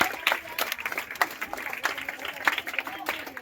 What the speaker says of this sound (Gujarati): જોરદાર તાળી વગાડો શ્યામભાઈ માટે